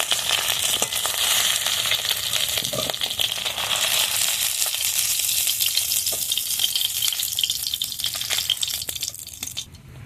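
Hilsa fish head frying in hot oil in a pan and broken up with a metal spatula, a loud continuous close sizzle with scraping stirs running throughout, no talking.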